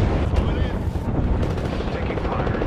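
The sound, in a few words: gunfire in a video game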